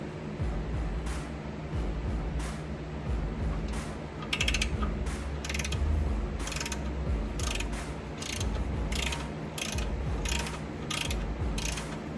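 A ratchet clicks in rapid repeated bursts while removing 14 mm torque converter bolts on a Lincoln Mark VII during a T5 five-speed transmission swap, close and steady with brief pauses between runs.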